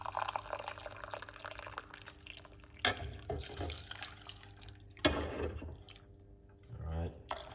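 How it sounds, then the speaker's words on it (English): Hot water pours into a cup holding parsley in a kitchen, close splashing and trickling in a few bursts with a faint background hum. "Number 2, we're going to put some hot water."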